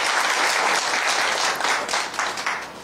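Dense, loud audience applause at a televised political debate on the Karjat assembly constituency election in Raigad district, continuous clapping that tapers slightly toward the end.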